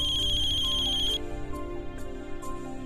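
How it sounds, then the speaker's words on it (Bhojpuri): A phone ringtone chirps in a high, steady repeating pattern for about a second. Then it cuts to a busier indoor background with faint clicks. "अरे देखा ना केकर फोन हा"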